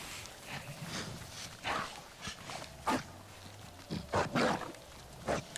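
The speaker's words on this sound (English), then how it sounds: "Let's not go and bother those little dogs. They're not really dogs per se, they're more like wolves" Wolf-like dog creatures in Avatar: Frontiers of Pandora, a scattered series of short barks and yips at moderate distance, irregular and fairly faint against a soft outdoor ambience.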